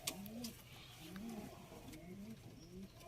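Sialkoti chuhay pigeons coo softly in a repeated rolling pattern, about four calls in quick succession, faint and close with light background noise.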